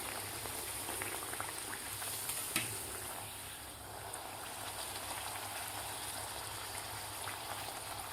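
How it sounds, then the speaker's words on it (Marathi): Puri frying in hot oil gives a soft, steady bubbling sizzle heard close but quietly throughout, with one brief clink partway through and no talking. "लगेचच आपण यामध्ये आता पुरी घालून घेऊया. तेल आपल्याला व्यवस्थित गरम करून घ्यायचं आहे."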